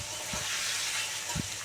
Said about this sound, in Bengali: পনিরটা একটু ভালো করে ভেজে নেব